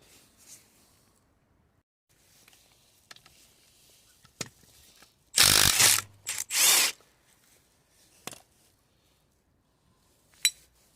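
Ratchet wrench and socket working on alternator bracket bolts of a Peugeot Partner 1.6 HDi, giving a few quick bursts of clicking ratchet noise among quiet gaps and small metallic clinks.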